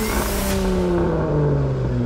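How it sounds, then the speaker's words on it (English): A V6 Dodge Challenger's exhaust drones loudly, its pitch sliding downward as the revs ease off after a rev. "So as you can hear, it's a six cylinder."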